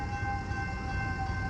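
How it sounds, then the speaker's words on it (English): Metra or BNSF train approaching on welded rail at LaGrange, Illinois on a 98-degree day: a steady, loud rumble with a sustained horn-like tone running throughout. "Now we've got a train coming."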